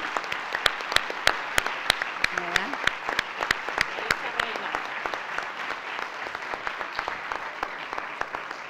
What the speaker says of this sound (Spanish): De verdad, un aplauso.